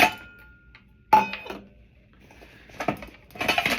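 A metal bushcraft cook set, cup, pots and pans nested together, clanks and rattles as it is pulled from a bag, with a sharp clang near the start and a busier burst of jangling metal toward the end.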